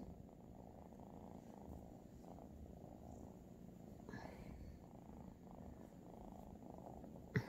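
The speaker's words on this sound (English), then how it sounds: "purrs." A cat purrs continuously and softly at close range, a low steady rumble with no talking.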